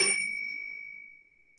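A doorbell gives a single bright metallic ding that rings on and slowly decays over about a second, close and clear with no talk over it.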